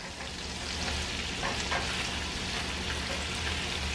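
Shrimp and sausage frying in hot butter in a pan, a steady close sizzle and crackle that holds loud and even throughout with no talk.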